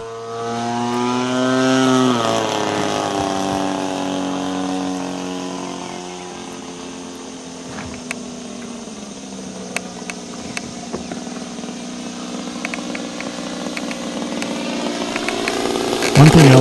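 A DLE-40 twin gas engine in a model airplane drones loudly and continuously, its pitch wavering and sliding downward early on before holding a steady buzzing run.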